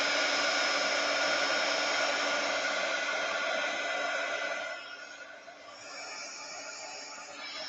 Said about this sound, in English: It's just cool to watch the heat gun dry that stuff up.